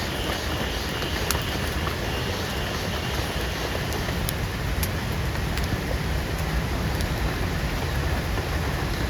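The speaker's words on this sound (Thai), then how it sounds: "อันนี้ฝนก็จะปล่อยอีกแล้วนะครับ ผมว่ามันจะไม่ตกหนักนะ" Light rain falls steadily in a Thai forest beside a wilderness survival camp, a soft even hiss of drops throughout with a few faint ticks and no talking.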